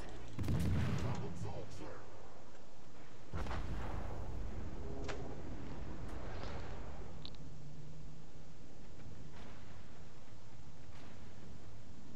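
Naval guns firing from warships in World of Warships, a heavy low boom near the start and a second around three seconds, followed by fainter distant rumbles and shell impacts.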